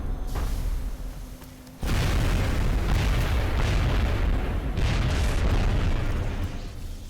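A Sectopod robot blowing up in the XCOM Enemy Within video game, a heavy booming explosion that bursts in after a brief lull and rolls on as a loud, sustained rumble with crackling debris before easing off.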